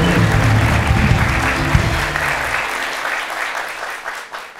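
Audience applause for Aslı Şafak during a talk show conversation with Keçiören's mayor, a steady loud burst of clapping that fades toward the end.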